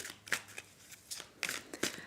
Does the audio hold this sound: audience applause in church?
no